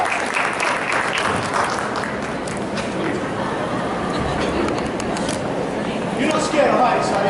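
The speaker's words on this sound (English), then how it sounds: "Give her a round of applause." Audience applause for a volunteer at a hypnosis show, a broad wash of clapping with crowd chatter underneath that swells slightly near the end.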